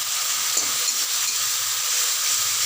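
A pan of tomato sauce with sugar added is stirred over heat, giving a steady close sizzle and hiss with faint scraping, continuous and fairly loud with no talk.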